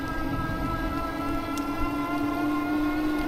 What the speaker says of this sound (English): Hear that motor whirring back there.